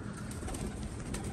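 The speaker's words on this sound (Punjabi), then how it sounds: "ਇੱਧਰ ਕਬੂਤਰ ਹੈਗੇ ਨੇ" Pigeons coo softly and steadily, a low murmuring chorus from several birds kept in a loft during harsh weather, continuous and fairly faint with no voices over it.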